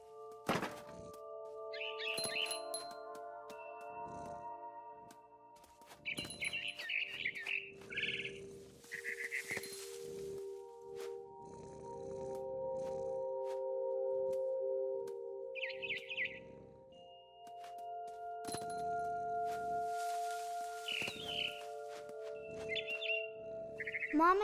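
A frightened barn swallow chirps in the video game What Remains of Edith Finch, bursts of quick high tweets scattered across a sustained game ambience with soft thumps and drones.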